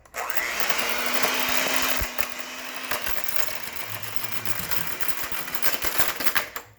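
Batter for fluffy Belgian waffles is mixed in a bowl, giving a steady, loud whirring and churning that runs continuously, with a low hum easing off after the first two seconds.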